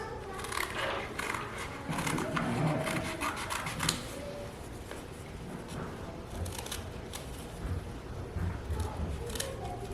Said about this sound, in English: I'm going to cut out these triangles